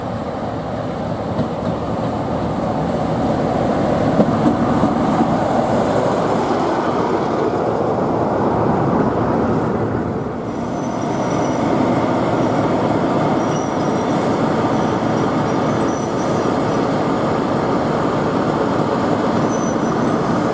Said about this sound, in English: 45133 runs round its train to take the next train down to Holt.